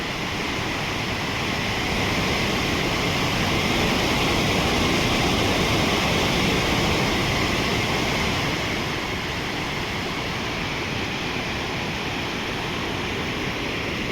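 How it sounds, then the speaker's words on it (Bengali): A mountain waterfall on a Himalayan trek near a hanging bridge roars in a dense, continuous rush of falling water, loud and steady without talk. "ঝর্ণা বয়ে যাচ্ছে"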